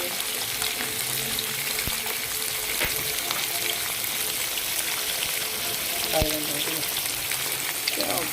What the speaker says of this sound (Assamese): ইয়াত চিকেনটো ফাৰ্ষ্ট টাইম ফ্ৰাই কৰি ল'ম।